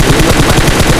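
Rapid automatic 5.56 rifle fire sprayed in a shooting video game, a loud burst of evenly spaced shots in quick succession.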